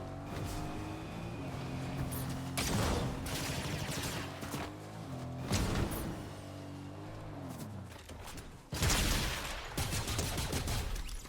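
Gunfire in the video game Fortnite, with sniper rifle shots cracking as sharp bursts over a droning vehicle engine, several blasts spread unevenly across a busy, continuous battle soundscape.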